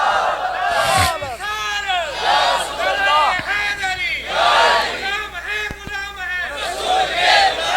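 A large crowd at a Rabi ul Awal religious gathering chants slogans in unison, with loud, swelling shouted phrases rising and falling in repeated waves over about eight seconds, voices blending into a roaring mass with occasional sharp individual cries.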